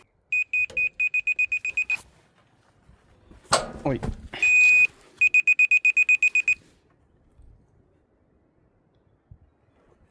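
A Vevor rotary laser level receiver at a band sawmill setup emits rapid trains of sharp, high beeps, once holding a steady tone, then pausing. A voice briefly cuts in between the beep bursts.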